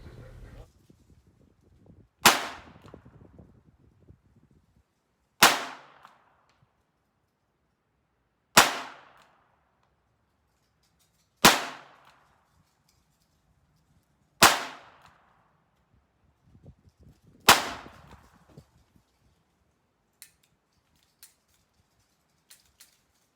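.22 rimfire pistol gunshots at an outdoor range, six sharp reports spaced roughly three seconds apart, each with a short decaying echo, followed by a few faint distant pops.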